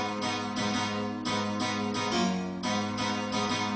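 Short burst of swirling electronic piano chords with a looser, shifting rhythm, sustained tones rising and falling over a steady low bed.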